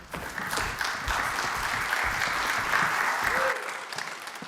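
Conference crowd at a tech user event applauds speakers taking the stage, a broad sustained wash of clapping that drops away abruptly near the end, with faint voices beneath.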